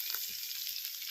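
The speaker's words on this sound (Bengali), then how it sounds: "এবার আমি বেগুনগুলো ভেজে নেব" Eggplant pieces frying in oil in a pan, a soft, steady hiss of sizzling heard alone, fairly quiet and close.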